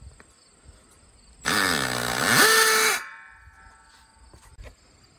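A short burst of loud, harsh power-tool whine with a shifting pitch as a drill pre-drills holes in concrete, lasting about a second and a half before cutting off, close by.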